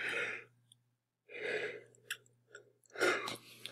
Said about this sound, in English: There's a yawn.